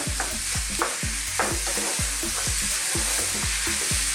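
Half a kilo of minced beef and potatoes fry and get stirred in a pan for an aloo keema curry: a steady close sizzle broken by regular scraping strokes about every half second, with no talking.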